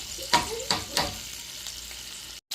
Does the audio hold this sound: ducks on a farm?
no